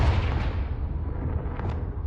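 A Confringo explosive spell blast in the video game Hogwarts Legacy, a loud, deep boom that rumbles and decays over about two seconds with a faint crackle near the end.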